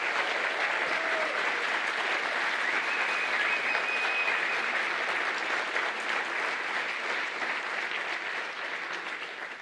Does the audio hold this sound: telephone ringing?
no